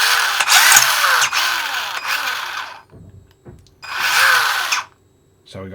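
A Flysky NB4plus-controlled RC car's electric motor whines loudly in two sustained bursts, spinning forward and then in reverse, with a short quiet gap and a few small clicks between runs.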